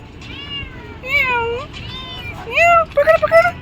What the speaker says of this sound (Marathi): कॅट आहे दीदी कॅट